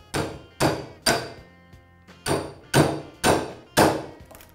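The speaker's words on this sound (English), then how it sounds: "we can drive it home with our hammer." Hammer driving an ATV/UTV CV axle joint into place: seven sharp metallic blows in a steady rhythm, each with a short ringing decay, close and loud, no talk.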